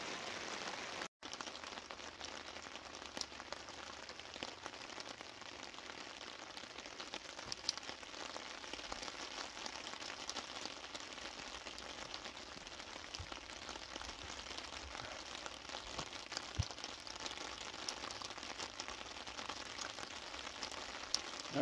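Rain patters steadily on a tarp stretched over a campfire, a dense, even crackling hiss that holds faint and unbroken throughout with no voices.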